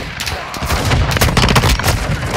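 Gunfire in Call of Duty: Modern Warfare, loud and dense, with rapid automatic bursts and booming shots layered in a continuous battle din.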